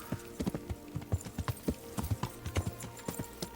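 Horse hooves clip-clopping in the medieval game Kingdom Come: Deliverance, a steady trotting rhythm of sharp, close hoofbeats on hard ground, about a dozen strikes in quick succession with no talk over them.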